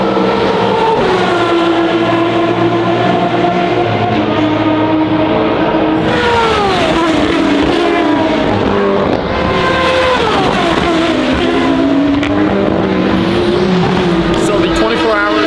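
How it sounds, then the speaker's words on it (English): An Aston Martin Valkyrie hypercar, running muffled, races down the straight at Le Mans during the 24 Hours, its loud high-revving engine note rising and falling as it passes, with other cars roaring by continuously. "the Valkyrie was the best sounding car flying down the straight"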